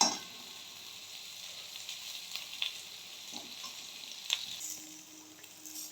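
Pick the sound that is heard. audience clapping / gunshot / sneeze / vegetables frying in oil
vegetables frying in oil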